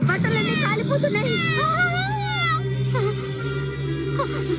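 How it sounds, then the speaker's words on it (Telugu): A cartoon cat, from a Telugu-dubbed Doraemon episode, lets out several stylized meows with rising and falling pitch, mixed in with background music and effects. "నువ్వు మియావ్ అని అరిచి కాపాడావు"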